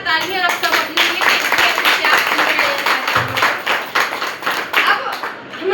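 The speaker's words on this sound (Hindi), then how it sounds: "एक बार जोरदार तालियां आप सब अपने लिए।" Loud, dense clapping from an audience at a talk or seminar, a steady rapid patter of many hands that fills the whole stretch, with a voice briefly audible underneath.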